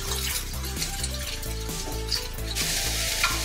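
A whole large onion sizzles in a pan with browned garlic, giving a close, continuous frying hiss over a rhythmic low pulsing background, with no speech.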